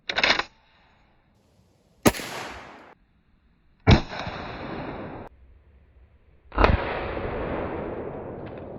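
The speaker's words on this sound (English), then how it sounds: "let's try one of those 500 Smith & Wesson Magnums, see if it does any more damage than that" Lever action rifle firing .500 Smith & Wesson Magnum rounds into a wood block outdoors: four sharp, loud, widely spaced shots, each a hard crack followed by a rolling echo that fades over a second or more, with no talking.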